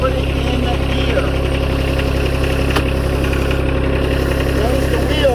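A John Deere 1025R compact tractor idles steadily nearby as it is shifted into gear, a constant mid-pitched engine drone with faint mechanical vibration throughout.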